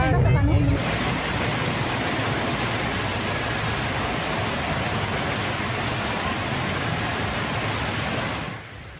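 Floodwater surges along a road in Cimahi, a loud, unbroken rushing roar like a river in spate that fades out at the very end.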